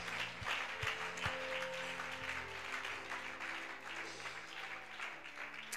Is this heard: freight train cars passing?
no